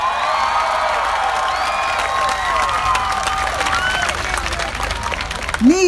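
A large crowd of more than ten thousand protesters at a rally claps and cheers continuously, with whistles, shouts and whoops rising over steady dense applause.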